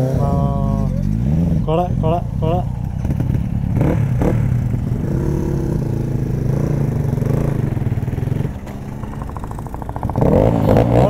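Suzuki 650F superbike engine at a dirt race track in Nepal, revving loudly and close with rising and falling pitch. Someone talks over it throughout.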